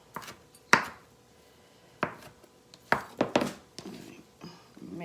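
Knife chopping spinach on a cutting board, several sharp separate chops at an uneven pace, close and fairly clear, with light kitchen clatter between strikes.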